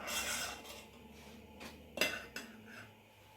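Spoon scraping and clinking against a pot while peanut butter fudge mixture is stirred, a few brief metallic knocks and soft rubbing strokes, close and fairly quiet.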